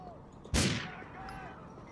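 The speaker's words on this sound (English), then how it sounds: "I shot your tire! I shot the tire!" A single sharp gunshot at a car tire in GTA IV cracks out loudly mid-clip, its echo decaying over the next second against a quiet background hum.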